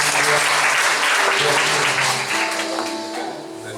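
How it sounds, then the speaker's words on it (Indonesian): Church congregation at a GBI service applauding, loud sustained clapping filling the room with a faint musical tone beneath, easing slightly toward the end. "kita berikan tepuk tangan"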